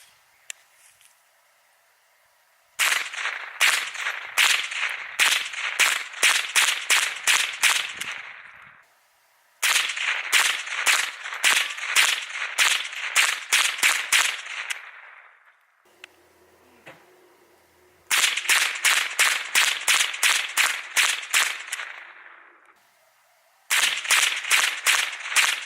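A .22LR gun firing magazines at a concrete block outdoors: four rapid strings of sharp cracking shots, each lasting several seconds, separated by quiet gaps with faint handling clicks.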